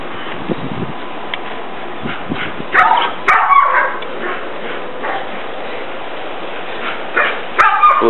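Ten-week-old puppies yip and bark in short bursts over a steady background hum, with a few higher whimpering cries scattered through.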